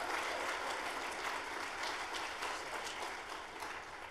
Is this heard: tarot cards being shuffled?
no